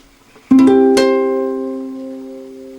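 A classical guitar chord sounded as a quick rolled strum of a few strokes, then sustained and slowly fading, close and clear with nothing else audible.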